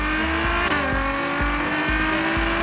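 A Ferrari GTC4 Lusso T V12 engine revs loud and close with a smooth sustained roar, its pitch stepping up through several repeated rises.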